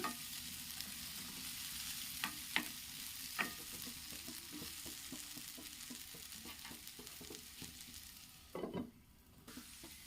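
Potatoes stir-fry in a pan with a quiet continuous sizzle, while a spatula scrapes and taps in scattered strokes throughout and a louder scrape comes near the end; no one speaks.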